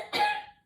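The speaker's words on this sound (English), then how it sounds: "can you cough for me?" A patient gives a single short, close cough on request during a health assessment, a brief burst that trails off quickly into quiet.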